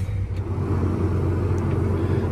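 A tractor fitted with dual wheels pulls away, giving off a steady, close, heavy engine rumble with no talk over it.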